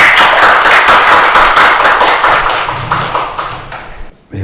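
Audience applause greets a former deputy prime minister arriving for a special lecture at Kookmin University, dense steady clapping that fills the room and then tapers off near the end.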